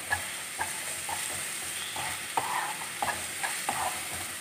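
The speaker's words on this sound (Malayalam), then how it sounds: "ഈ ഇഞ്ചി വെളുത്തുള്ളി പേസ്റ്റിൻ്റെ പച്ചമണം മാറുന്നത് വരെ ഇതൊന്ന് ഇളക്കി കൊടുക്കാം." Ginger-garlic paste and onions sautéing in a pan for a restaurant-style chicken gravy, a soft steady sizzle broken by repeated sharp scrapes and clicks of a spoon stirring against the pan.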